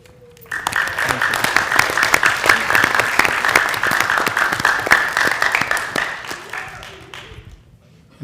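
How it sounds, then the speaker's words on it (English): Sustained audience applause with scattered cheers at a school board meeting, honoring a girls tennis team; dense clapping swells in quickly, holds steady for several seconds, then fades away at the end. "please join me in cheering them on to victory"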